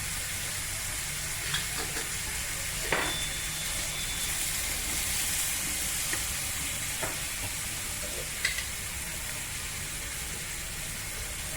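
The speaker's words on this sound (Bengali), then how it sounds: "মশলা সহ সবজিগুলোকে একটু ভাজা ভাজা করে নিলাম" Vegetables fry with coriander, cumin and other ground spices in a pan, a steady close hiss and sizzle with occasional scraping stirs, no talking.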